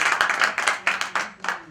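Loud, quick claps ring out in short uneven bursts at a gathering for a woman guest, a handful of sharp hand strikes each dying away before the next.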